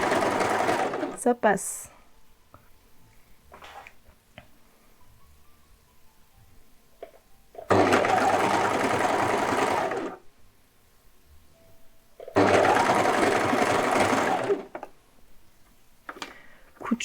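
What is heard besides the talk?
sewing machine stitching a side seam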